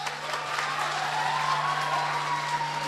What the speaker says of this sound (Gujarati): તમારા મેડમ માટે એક જોરદાર તાળી પાડો